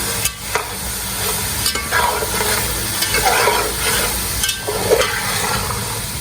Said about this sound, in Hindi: चनों को आपने अच्छी तरह से फ्राई कर लेना है।